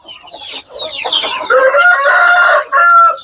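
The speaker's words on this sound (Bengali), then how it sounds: "কত সুন্দর মুরগিগুলো ভাই" Hill and local breed chickens cluck and squawk close by on a poultry farm, a busy run of overlapping calls that grows louder and more sustained toward the end, with no talking.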